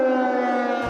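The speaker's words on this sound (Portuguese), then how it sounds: "As sirenes tocam todos os dias na capital." An air raid siren wails over Ukraine's capital in one loud, steady, sustained tone that holds unbroken before cutting off at the end.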